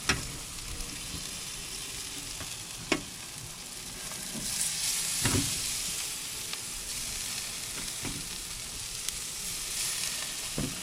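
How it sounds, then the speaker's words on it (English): A steak sizzles in a hot pan, a constant soft crackling hiss with occasional sharper pops and stirring or scraping knocks, close and fairly quiet with no talk. "We're going to put it on one side, cook for a few minutes, and then we're going to flip it over to the other side."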